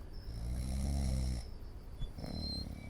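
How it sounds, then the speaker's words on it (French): A killer in the horror video game Beyond the Tomb snores loudly, a long rumbling intake that fades into a quieter second breath, with no talking over it. "Oh, le ronflement terrifiant."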